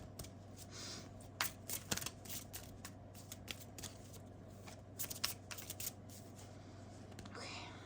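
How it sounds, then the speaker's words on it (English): Tarot cards from a Romance Angels deck being shuffled off to the side, soft papery riffles and flicks scattered through the clip over a steady low hum, with no voice speaking. "I'm going to shuffle off camera."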